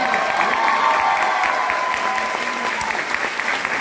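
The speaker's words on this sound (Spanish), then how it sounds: "Un aplauso, por favor, para esta maravillosa" Theatre audience clapping for a performer at a comedy play in Monterrey, with a steady wash of many hands, fairly close and sustained for a few seconds.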